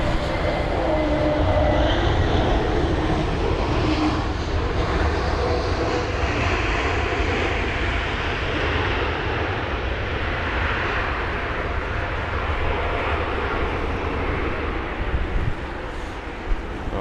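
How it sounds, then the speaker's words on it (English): A Swiss Airbus A320neo from Zurich lands at London Heathrow in stormy rain, with a loud, steady jet engine roar that holds for the whole stretch and fades slightly at the end. "That's going to be a Swiss 320 Neo from Zurich."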